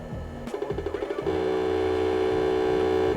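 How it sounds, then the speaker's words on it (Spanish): A 486 tower PC with 8 MB of RAM counts its memory at boot: a quick run of about a dozen evenly spaced ticks, then a steady sustained tone that holds alone to the end. "Este es el conteo de la memoria RAM"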